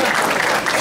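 Brief burst of dense crowd applause at a PSDB political party event in Brazil, loud and continuous over less than a second.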